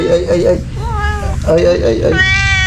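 A house cat meows repeatedly near and fairly loud, its cries mixed with other voices and household noise.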